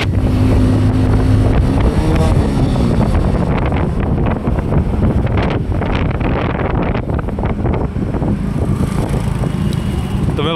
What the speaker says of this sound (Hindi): इतनी तेज हवा आ रही है।